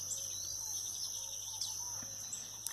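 Birdsong drifts across a rural smallholding at daybreak, scattered chirps and tweets over a constant high cricket-like hum, fairly distant and even, with a few sharper notes near the end.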